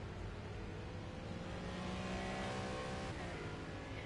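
Race cars circulate the Dubai Autodrome international layout in the Project CARS 2 video game, their engines whirring and revving in a continuous layered drone, fairly distant and even, with no talk.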